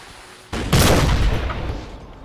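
A cannon battery fires in Napoleon Total War, a sudden loud boom that swells half a second in and rolls off into a rumbling decay.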